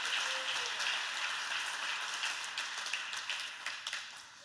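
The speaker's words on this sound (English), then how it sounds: "can we just clap unto him one time" Church congregation applauding together, a dense burst of clapping that gradually thins and fades over a few seconds, with no talk over it.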